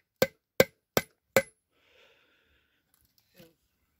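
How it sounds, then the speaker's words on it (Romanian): Four evenly spaced, sharp metallic hammer blows drive a nail into a bicycle part, followed by faint handling noises and a soft knock. "Vom lua cuiul și ciocanul și vom bate în acest cui."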